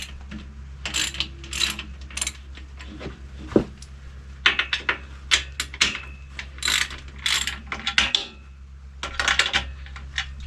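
A hand ratchet clicks in short bursts while loosening bolts on the frame of a Harbor Freight modular welding table, with quiet pauses and light metal clinks between the runs of clicks.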